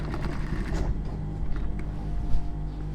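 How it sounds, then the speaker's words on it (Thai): Sewing machine stitching along a marked line while taking in the waist of a girl scout uniform skirt, a steady close mechanical whir and rattle with creaky clicking running throughout. "เย็บตามรอยเลยนะคะ เจ็ดละนิ้วละนิ้วเลย"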